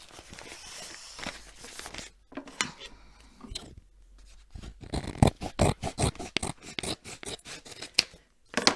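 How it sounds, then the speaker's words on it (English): Scissors cutting open a cardboard package, a close run of crisp snips that starts slowly, then speeds into rapid, regular cuts after some rustling and handling. "Cutting across the top there. Nice piece of cardboard."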